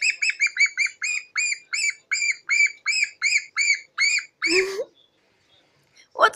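A pet parrot lets out a rapid series of close, sharp chirping squawks in an even rhythm, then a lower harsh squawk, a pause and one more short call.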